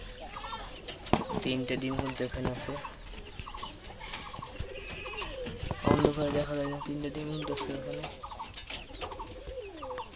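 Racer and Bengali pigeons coo in low repeated rolling phrases, close by, with rustling and occasional wing flutters, while someone talks over them throughout.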